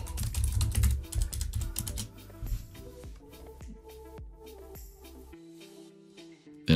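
Password being typed on a computer keyboard at a console while setting up Windows Server on a VPS; a run of quick, dense keystrokes that thins out into sparser, separate clicks, close and alone.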